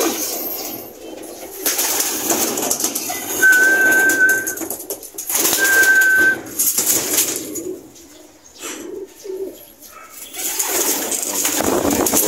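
Pigeons coo softly outdoors over steady ambient noise, with a couple of brief clear whistled notes.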